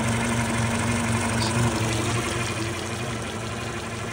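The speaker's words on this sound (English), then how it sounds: "Engine been running for like 3 hours now, working totally fine." A 2014 Suzuki DF140A outboard engine idles steadily up close, with a continuous low hum and mechanical vibration and no talking.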